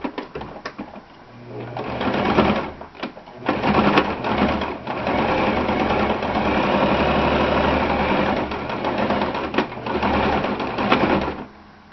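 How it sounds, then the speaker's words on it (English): A sewing machine stitches down a seam in fast mechanical whirring bursts. After short stop-start runs, it keeps up one long, steady run before pausing again. "And then you'll have to sew down this seam as well, just to have it meet up."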